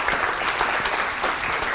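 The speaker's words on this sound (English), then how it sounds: "So please greet both our distinguished speaker and our donor here, Dr. Friedman, with a big hand of applause." Audience at a lecture applauding a distinguished speaker and donor, brisk dense clapping that fills the brief moment at an even level.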